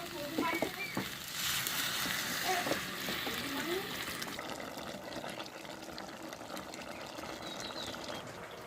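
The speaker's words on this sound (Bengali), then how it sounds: "এবার আমি দিয়ে দেবো একটু জল।" A little water is poured into a pan of jackfruit and prawn curry, bringing a brief splash and gurgle followed by a softer, steady simmering sizzle close by.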